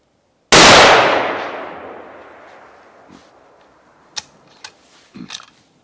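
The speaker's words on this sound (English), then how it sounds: "And now we'll fire 2 more to be sure we're exactly where the rifle's hitting" A single loud rifle shot fires while a Vortex riflescope is sighted in, its sharp crack decaying into a long echoing tail, followed by a few faint clicks and small mechanical knocks near the end.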